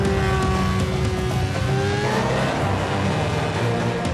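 Red Bull Formula 1 car on an onboard simulator lap of Bahrain, a loud sustained high-pitched engine whine rising through the gears with no pause, constant and close.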